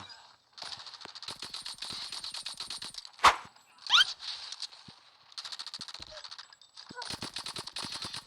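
A nail gun in Call of Duty Mobile fires rapid bursts of sharp, rattling shots, repeated in several runs with two louder impacts midway, close and punchy under excited talking.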